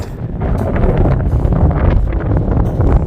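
Strong wind buffets the microphone on Easton Glacier on Mount Baker, producing a loud, continuous low roar and rumble with gusty fluctuations.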